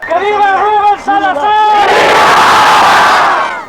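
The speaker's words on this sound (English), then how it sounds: "protesters were again gathering in East LA" A dense crowd of protesters at a 1971 street rally in East LA shouts in unison, loud and close, rising into a sustained roar of many voices.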